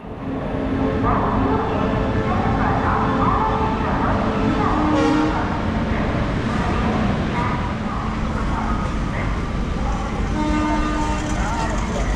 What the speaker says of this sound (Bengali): ট্রেনটি হাওড়া প্ল্যাটফর্ম থেকে বাইরে বেরিয়ে আবার কিছুক্ষণ দাঁড়িয়ে রইল